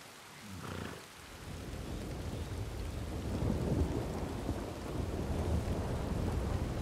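Steady rain hisses with deep rolling thunder rumbling beneath it in Red Dead Redemption 2, continuous and enveloping, with no voices.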